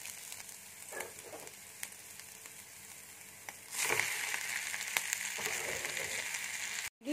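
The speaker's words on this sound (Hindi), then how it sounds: "मैगी को भी हाई फ्लेम पर अंडा के साथ फ्राई करना है लगभग 1 मिनट।" Maggi noodles fry with egg on a high flame, a steady close sizzle that swells louder partway through as the pan is stirred. No one speaks.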